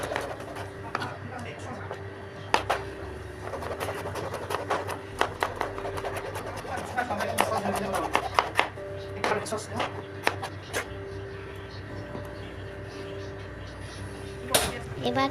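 A knife chops fresh tomatoes on a board, giving many sharp, close taps in an uneven rhythm throughout, over a steady tonal background.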